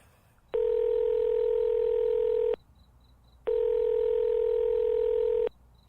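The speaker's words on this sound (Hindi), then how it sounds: "वो आस्था को कॉल करता है।" A telephone dial tone sounds in two long steady beeps of about two seconds each, separated by a short silence, clear and close.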